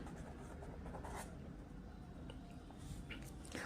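A pen scratches across paper close up, a soft continuous scribbling with small irregular strokes and brief accents, quiet and alone with no talk.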